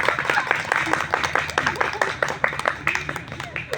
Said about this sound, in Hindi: बच्चे के लिए ताली बजा रहे हो